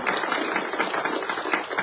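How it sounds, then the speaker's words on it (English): Dense, steady applause from a school audience in an elementary and middle school setting, filling the short moment loudly and evenly without a break. "give them a big round of applause"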